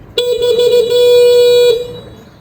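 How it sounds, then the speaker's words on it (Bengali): A single car horn sounds loud and close in one sustained honk of about a second and a half, pressed from the horn switch in the cabin, with no voices over it. "আর এই হচ্ছে হর্ন সুইচ"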